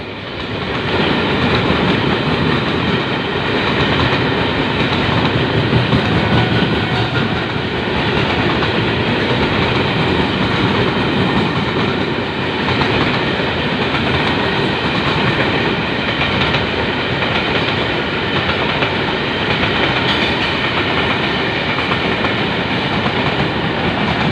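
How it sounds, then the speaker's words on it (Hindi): A long freight train hauled by a 3000 horsepower locomotive rolls through Bahawalpur railway station in Pakistan close by, a continuous loud rumble with rhythmic clickety-clack of wheels over rail joints and occasional faint squeals. "मालगाड़ी थ्रू पास करते हुए बहावलपुर रेलवे स्टेशन से 82-14 पावर के साथ 3000 हॉर्स पावर इंजन।"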